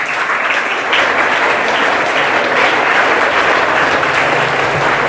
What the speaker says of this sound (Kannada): ಎಲ್ಲರೂ ಜೋರಾದ ಚಪ್ಪಾಳೆ ಮೂಲಕ